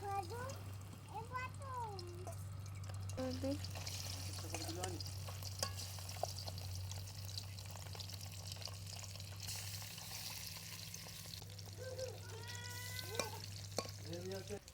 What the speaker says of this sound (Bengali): এই যে মাছ দিচ্ছি তেলে